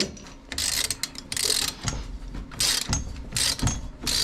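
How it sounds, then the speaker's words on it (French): A ratchet wrench lowering a Volvo XC70 clicks in close, loud bursts of rapid pawl ticks, about six rounds separated by short pauses. "Donc je vais le faire au cliquet, c'est histoire de montrer."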